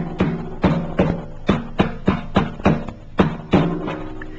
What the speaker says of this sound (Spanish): Ahora el timbal con un mazo de esas de fieltro blando